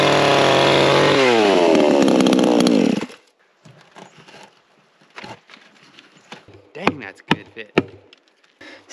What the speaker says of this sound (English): and then we'll get the skill saw on.